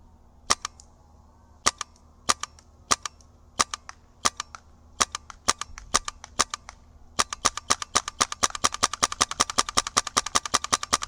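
Krytac Kythera MK2 CRB airsoft rifle shooting BBs, crisp sharp snaps first fired as spaced single shots, then as a fast steady string of rapid shots near the end, close and clear with no talking.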